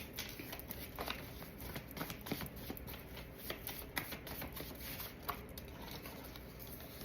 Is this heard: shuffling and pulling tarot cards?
yes